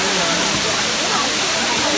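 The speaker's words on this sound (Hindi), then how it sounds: "ये है बी वाटरफॉल।" Bee Falls at Pachmarhi pours down from a height, a loud, unbroken broadband rush of water filling the scene, with someone talking over it.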